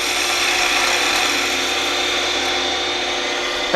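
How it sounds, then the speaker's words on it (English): A wood lathe turns a thin 3/4 inch wooden shaft for a table lamp as a tool takes a light cut, giving a loud, continuous scraping rasp with a slight vibrating buzz from the flexing wood. "That noise that you hear is a little bit of vibration because of that small 3/4 inch diameter."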